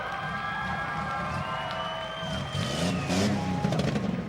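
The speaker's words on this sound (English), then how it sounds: "Give Harold one more round of applause for that show" Crowd cheering and applause at a 2014 Tuscarawas County rough truck event, a steady outdoor din that swells louder in the second half, with a low engine-like hum running underneath.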